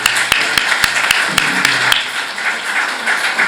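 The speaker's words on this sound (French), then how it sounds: "j'aimerais qu'on applaudisse pour eux." Guests applaud a couple at a civil wedding ceremony in a town hall, with sharp, evenly spaced claps standing out at first before thinning into a softer, steady patter of applause.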